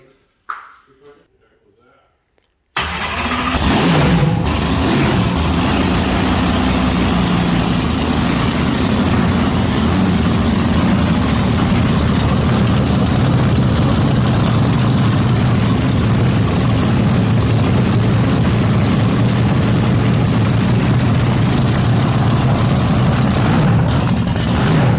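Blown Camaro engine with a supercharger firing up after a brief quiet stretch, then settling into a loud, steady, rumbling idle that carries on unbroken for about twenty seconds.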